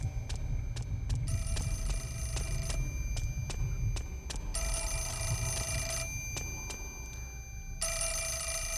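Repeated electronic telephone ringing in the survival horror game Fatal Frame IV, steady bursts of bright ringtone trills over a low droning ambient background, with no talk.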